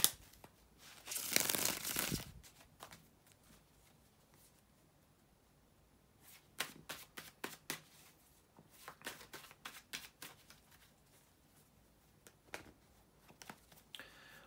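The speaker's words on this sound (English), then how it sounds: "to shuffle the tarot cards" A loud burst of tarot cards being shuffled, then a long run of softer crisp card shuffles and taps continuing intermittently.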